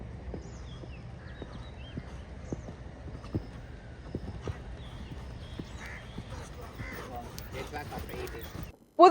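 Horses at an equestrian jumping competition give a steady series of soft clip-clop hoof thuds at moderate distance, with faint background voices and crowd murmur.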